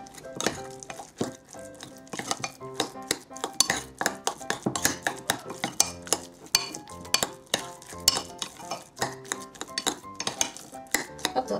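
A metal spoon mixes cumin and black pepper in a bowl, producing rapid, close, continuous clinks and scrapes with a busy, uneven rhythm and no voices.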